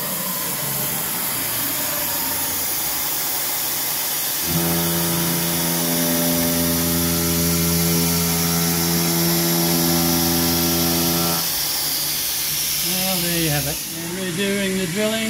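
A loud home-built PrintNC CNC machine drilling hums and whines steadily with a constant hiss, a tonal drone rising in the middle, then a brief shifting whir near the end.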